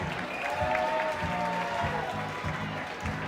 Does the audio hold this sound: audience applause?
yes